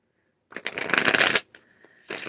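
A deck of tarot cards riffled and shuffled up close, a dense papery flutter lasting about a second, followed by a few softer card taps and slides.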